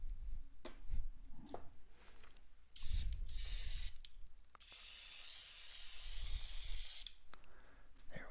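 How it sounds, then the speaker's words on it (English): Airbrush spraying paint for a masking technique, steady bursts of loud hissing spray alternating with quieter handling clicks and movement. "let's add some of this to the airbrush."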